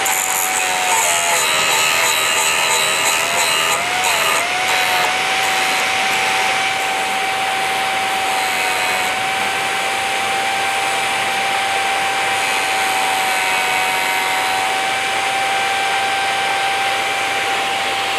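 Drill bit sharpener running steadily with a continuous high whining hum and grinding rasp, close and loud, with a brief rougher stretch near the start as a bit is worked.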